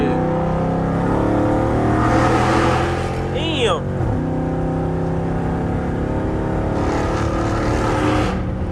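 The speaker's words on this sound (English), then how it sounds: "this new intake is loud as shit." A Mopar R/T with a new intake and over 400 hp accelerates on a highway, its engine roaring loud and sustained as a pass-by sweeps through midway, with a brief spoken exclamation.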